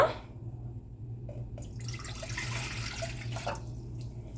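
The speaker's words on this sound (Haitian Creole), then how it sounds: "OK, on a ajouté 2 tasses d'eau" Water is poured from a cup into a cooking pot, two cups measured in for a home remedy, heard as a steady close trickle and splash over a low constant hum, with no talk.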